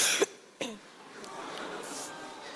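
A boy contestant at a Korea's Got Talent stage audition gives two sharp, close coughs with a throat-clearing rasp, followed by quiet room tone.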